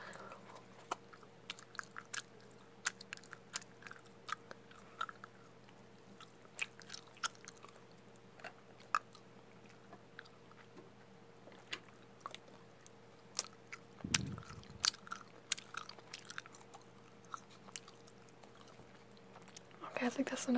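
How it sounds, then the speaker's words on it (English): Soft, wet chewing of gum by someone wearing braces, close and quiet, with small irregular smacks and clicks running throughout and a steady low hum beneath. "I'm trying to chew it, because if I don't chew it, it's going to soften and stick to my braces anyway."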